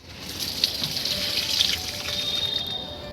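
Water poured onto potted chilli, tulsi and aloe plants, a steady trickling and splashing stream that runs continuously for a few seconds, close by and with no talking over it.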